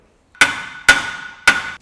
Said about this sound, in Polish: trzymamy rączką i uderzamy młotkiem, żeby doprasować do zegera